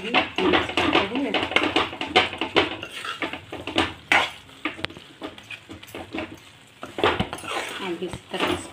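Chana dal filling with red chilli powder and salt stirred in a pan, giving repeated scraping and clinking of a spoon against metal in irregular bursts, close and fairly loud.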